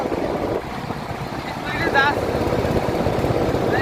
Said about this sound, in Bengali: কত সুন্দর একটা ইন্ডিয়ান জাহাজ আসছে আমাদের